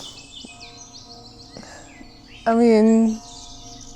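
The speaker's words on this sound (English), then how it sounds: "The sound of the birds is beautiful." Birds chirp and sing softly along the Mullerthal Trail in Luxembourg, faint high calls scattered through the clip, with a brief louder tonal burst near the middle and a person speaking briefly.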